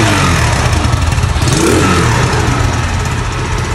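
A 110cc monkey bike engine runs close and loud, a steady rough mechanical drone with fine rapid pulsing and a brief rise in pitch partway through, no talking over it.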